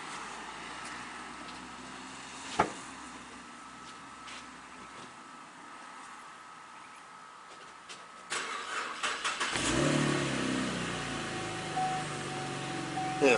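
A 2013 Chevrolet Camaro engine cranks and starts after a quiet stretch with one sharp click, then settles into a steady, moderately loud idle.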